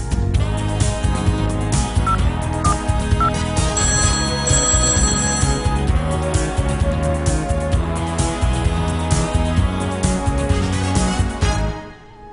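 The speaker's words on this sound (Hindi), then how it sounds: "लगाते हैं लकी कॉलर को फोन लकी कॉल में।" Telephone ringing out on a live radio show's lucky caller segment, a loud repeated electronic ring pattern lasting about twelve seconds before cutting off.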